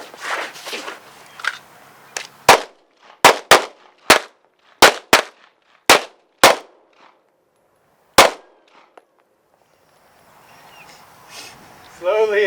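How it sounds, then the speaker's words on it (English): Pistol shots on an outdoor shooting range during a defensive handgun course: about a dozen sharp, loud cracks, several in quick pairs, then a single later shot. Voices and shuffling come before and after the string of fire. "We're going to fire 2 rounds."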